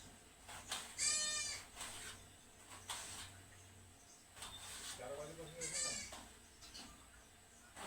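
A nanny goat that recently gave birth to three kids bleats twice, a few seconds apart, in quavering calls over a quiet farmyard background.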